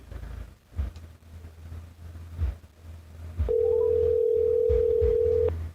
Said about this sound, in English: You hearing the phone ringing?